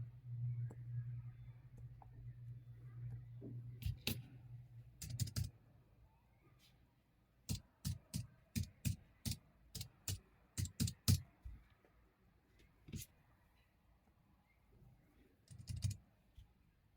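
Tapping on the keyboard of an AGM Pad P2 tablet, a budget unboxed device: scattered soft clicks, then a rapid run of separate crisp taps, close and fairly quiet, with a faint hum early on and no talk.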